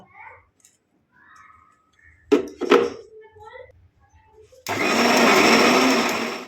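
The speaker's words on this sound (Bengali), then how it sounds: "সেগুলো দিয়ে মিক্সিতে পেস্ট করে নিব" A kitchen mixer grinder blending fried onions into paste starts abruptly after a few moments of quiet talk and a couple of clunks. It then whirs loud and close at a steady pitch to the end.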